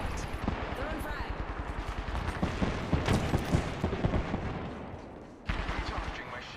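Rapid bursts of video game gunfire in a sci-fi shooter firefight, dense and continuous with booming shots, while a voice speaks over the combat.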